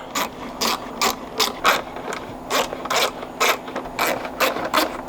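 Ratchet wrench with an 8 mm socket undoing headlight screws on a Volkswagen Golf Variant, a close, clicking ratchet in quick repeated bursts, each a short run of clicks, with no talking.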